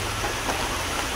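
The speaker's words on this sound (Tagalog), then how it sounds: "medyo malakas yung ulan, no? Malakas na naman." Heavy rain pours steadily outdoors during guppy breeding work, a dense, continuous hiss of drops with no pauses, loud and alone with no voices.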